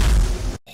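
A loud, heavy boom from the prosthetic cannon arm firing in a Berserk action video game, a dense roaring blast that fills the clip before cutting off abruptly into a brief quieter tail.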